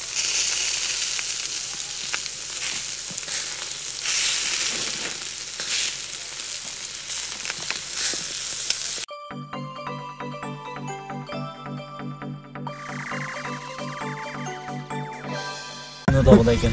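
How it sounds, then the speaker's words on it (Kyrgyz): Shashlik kebab skewers sizzling and frying over the grill at an outdoor gathering by Issyk-Kul, a steady close hiss with voices nearby, giving way to music partway through. "жанаттан бери кайнап аткан шашлыктар бышып кетти азыр"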